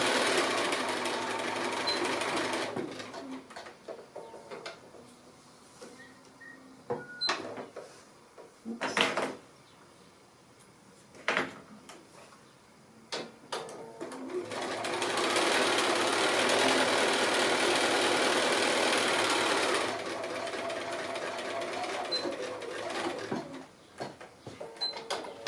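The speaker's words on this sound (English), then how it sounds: "I'm just going to zigzag along those edges, and that just holds all those edges together and stops the fraying" A sewing machine runs a zigzag stitch along fabric edges on a fat-quarter tissue pouch, whirring steadily in long bursts separated by pauses and a few clicks and knocks.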